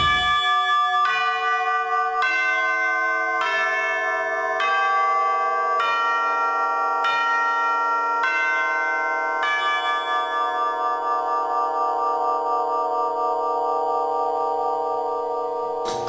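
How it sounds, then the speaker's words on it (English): Bright, ringing chimes strike in a steady sequence of tones, then their overlapping notes sustain and shimmer together, loud and close with no voices. "We were also able to use some chimes,"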